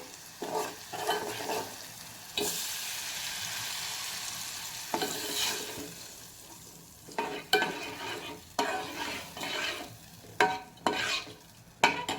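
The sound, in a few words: lentils added to hot pan, stirring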